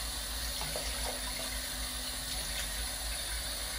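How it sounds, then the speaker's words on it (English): Running tap water in a sink rinses a denture brush, a steady close hiss of flowing water with faint splashing and a low background hum, no talking. "We're gonna rinse the brush"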